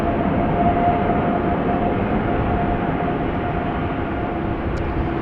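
Boeing 737 airliner at Amsterdam Schiphol Airport, a steady distant engine roar and rumble with a faint whine, constant throughout without voices.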